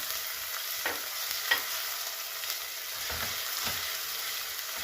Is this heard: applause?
no